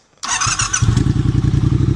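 A Moto Guzzi motorcycle engine cranks briefly and fires up close by, settling into a loud, lumpy, throbbing idle with a steady pulsing beat.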